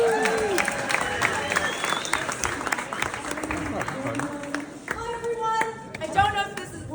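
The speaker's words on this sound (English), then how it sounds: "Big round of applause. Big round of applause." Crowd at an art space opening reception in Long Island City applauding, scattered clapping and some cheering beneath people talking nearby, fairly faint and uneven.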